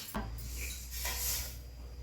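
Roasted sesame seeds being scraped out of a pan, a few close gritty scrapes and light metallic rubs over a low hum, no talking.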